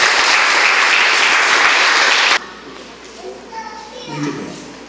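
Congregation at a wedding blessing during a religious gathering claps loudly for about two seconds, then the applause cuts off abruptly, leaving a quieter room with scattered voices.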